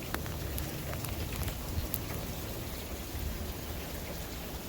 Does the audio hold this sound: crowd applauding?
no